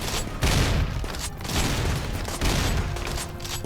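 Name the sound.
gunfire in the video game RimWorld during a siege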